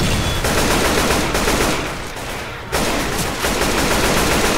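Sustained automatic gunfire from Left 4 Dead 2, dense rapid bursts that stay loud and close for most of the stretch, dipping briefly in the middle before the shooting resumes at full intensity.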